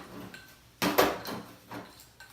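Sugar and baking soda stirred in a small dish with a utensil, a few short close clinks and scrapes against the dish in quick succession.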